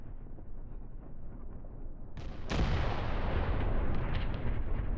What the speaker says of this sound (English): Wish I could tell these this artillery now to stop.